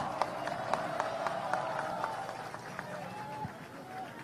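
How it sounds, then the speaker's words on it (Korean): Audience at an outdoor political protest rally in Korea applauding a war hero, with steady clapping and scattered crowd noise that fade slightly toward the end. "여러분, 대한민국을 지킨 우리의 영웅에게 다시 한번 큰 박수 부탁을 드리겠습니다."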